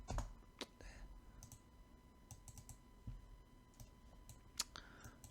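Sharp computer mouse clicks tapping out at an uneven pace, close by, with a faint steady hum underneath.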